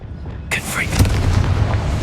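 A Confringo blasting spell in Hogwarts Legacy bursts as a sudden loud boom after a quiet start, followed by a rumbling, crackling explosion tail that lingers to the end.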